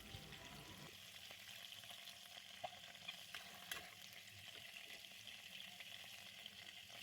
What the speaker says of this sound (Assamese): আৰু বাকী থকাখিনি ফ্ৰাই কৰি লৈছোঁ।